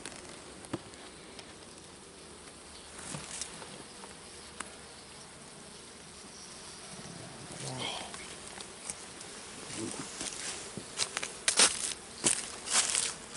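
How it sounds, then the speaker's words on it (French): Bees hum inside a crowded beehive opened at the end of winter, a faint, steady buzz close to the hive with scattered clicks and handling knocks growing louder toward the end. "Elle est blindée d'abeilles."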